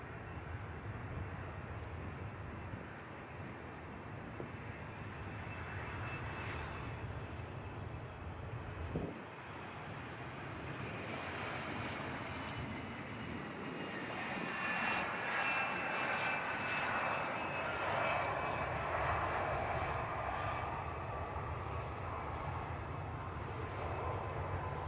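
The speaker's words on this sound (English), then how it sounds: "So here's our final show plane" A fixed-wing airplane's engines roar steadily at Edinburgh Airport, a broad continuous drone that swells louder in the second half, heard from outdoors with some wind on the microphone.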